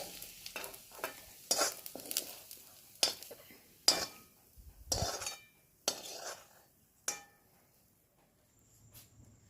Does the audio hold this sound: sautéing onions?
yes